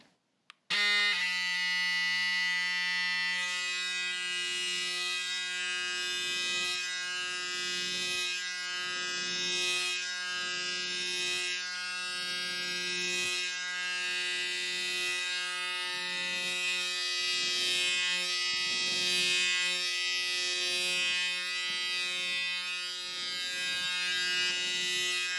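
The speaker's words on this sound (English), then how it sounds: "I will start now shaving your beard, okay? So I shave it closely, so remove all your hair" Electric razor closely shaving a man's beard in a barbershop, a steady loud buzzing hum running nearly the whole time with rhythmic pulses as the blade passes over the stubble, no talking.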